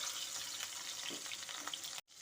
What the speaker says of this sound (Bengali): আমি এখন মাছটা ভেজে নেব।